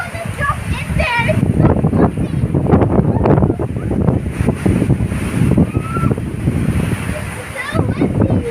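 Strong wind gusts roar steadily outdoors on a cloudy afternoon, rushing through bamboo with broad, continuous noise and microphone buffeting, while children talk and shout excitedly close by throughout.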